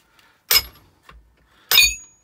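The middle of a copper casting is knocked out of a jelly mould: two sharp, separate metallic knocks about a second apart, each with a short ringing tail, against near silence.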